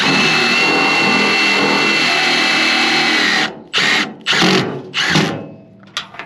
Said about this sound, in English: So I'm going to line it up and shoot in a couple screws.